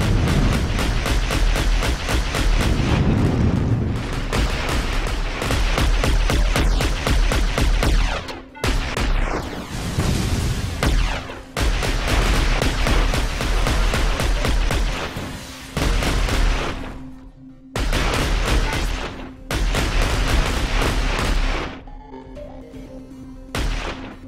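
Mech combat in the video game Heavy Gear Assault: loud, dense, sustained gunfire and booming explosions with a few brief gaps and no talking.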